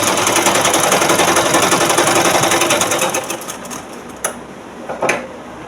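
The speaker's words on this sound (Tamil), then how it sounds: "இதில் நம்ம இப்போ 2 தையல் நம்ம போட்டுக்கலாம்" Stitching a blouse, a sewing machine hammers out a loud, fast, even rattle for about three seconds, then slows and stops, followed by a few sharp clicks and knocks.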